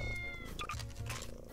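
A cat in the video game Minecraft gives a short meow, close and clear over a low background hum, ending in a sudden sharp burst of noise.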